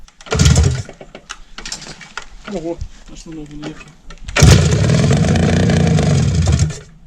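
A homemade dune buggy engine tries to start with only one of its cylinders firing, heard as a few short bursts of sputtering sound. A loud, steady roar follows near the end, and voices talk over the early part.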